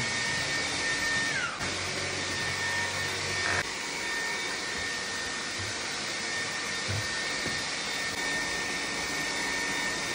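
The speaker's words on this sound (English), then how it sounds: "Vacuum the entire area. Make sure you get corners and under furniture." A vacuum cleaner runs continuously across a floor, a loud, steady high-pitched whine with a motor hum underneath, shifting briefly as it moves, with no one speaking.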